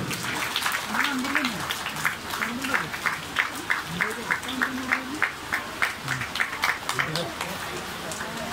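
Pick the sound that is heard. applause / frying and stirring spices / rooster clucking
applause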